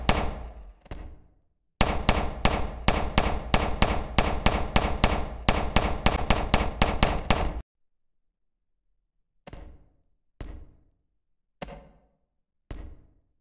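Gunfire in a video game: a few quick shots, then a long run of rapid, evenly spaced sharp cracks, followed after a pause by four isolated single shots, loud and close.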